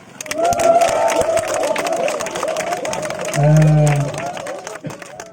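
A crowd at a community meeting in Papua greets a regent's visiting delegation with clapping mixed with loud cheers and shouting voices. The sound is close and busy, with a swelling surge of noise partway through.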